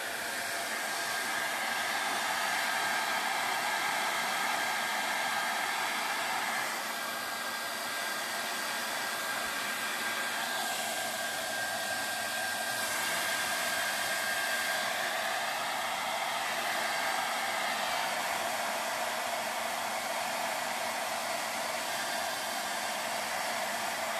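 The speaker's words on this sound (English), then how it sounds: "My good old hairdryer. See what it does." A hair dryer on low heat blows steadily and loudly for the whole stretch, a constant airy whoosh with a slight shift in tone partway through, no voices.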